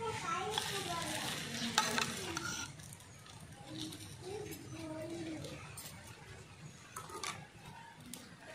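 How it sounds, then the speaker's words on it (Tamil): Beaten egg fries in a tiny miniature pan for a little omelette, a soft crackling sizzle that starts busier and then settles lower. Faint voices murmur in the background. "நல்லா முட்டையை ஊற்றிக்கலாம் இப்போ ஃப்ரெண்ட்ஸ்."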